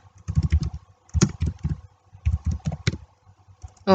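Fingers type on a computer keyboard in short quick bursts of clicking keystrokes, close and clear, with brief pauses between runs and no voice heard.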